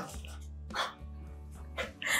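A dog barks nearby in a few short, separate bursts, with a low steady hum filling the gaps between them.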